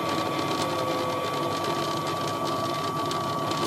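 A Miele Novotronic toy washing machine made by Theo Klein spins fast, giving a steady, close whirring motor hum with a constant high whine throughout and no pauses.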